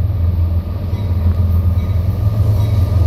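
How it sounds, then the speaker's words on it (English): A CSX westbound freight train hauling covered hoppers rolls past the Charleston, West Virginia depot on the former Chesapeake and Ohio Allegheny Subdivision, a loud, steady low rumble of wheels and engine throughout. "We've got a CSX coming westbound. It's getting ready to pass the Charleston Depot on former Chesapeake and Ohio Allegheny trackage."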